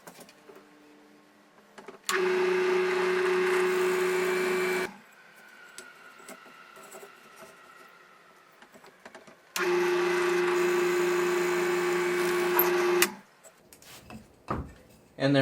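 A drill press fitted with a 3/8-inch brad point bit drills into a wooden centering jig. The motor whines steadily in two separate runs of about three seconds each, with quieter shop sounds between them.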